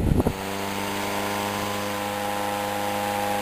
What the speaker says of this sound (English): The blades make that really early kind of noise though.